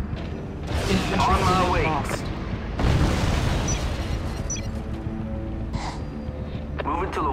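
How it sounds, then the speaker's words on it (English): Heavy booms and rumbling blasts of artillery fire roll through a desert siege in Act of War: High Treason, mixed with mechanical clatter and a brief voice line amid the battle noise. "Taking artillery fire!"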